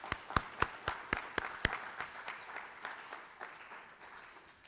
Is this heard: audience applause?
yes